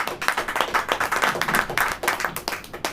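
A church congregation at a Hindi-language worship service claps in unison, a steady rhythmic beat of many hands keeping time, close and lively throughout with no talking over it.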